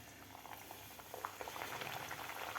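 Sweet fresh-coconut puris deep-frying in hot oil, a continuous bubbling sizzle with small crackling pops that grows slightly busier toward the end, close and fairly quiet with no voices.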